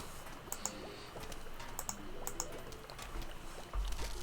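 Computer keyboard typing during play of a computer game: scattered light clicks over a steady background hum, with no one speaking.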